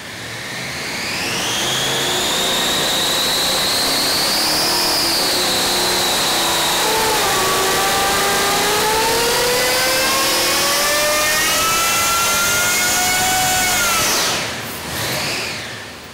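A 572 Hemi with a 10-71 Roots blower, slowed by a large 60-tooth upper pulley for less boost, roars through a dyno pull, its pitch climbing and holding loud and steady before cutting off abruptly near the end.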